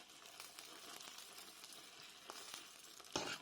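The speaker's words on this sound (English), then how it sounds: "And we're just going to stir it through very nicely in here." Grated cheese stirred through a pan of mac and cheese, a soft continuous frying-like sizzle with light scraping strokes and a brief louder scrape at the end.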